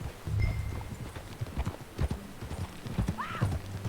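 Horse hooves clip-clop at a riding pace in Red Dead Redemption 2, with irregular close hoofbeats and a brief whinny near the end over a low background.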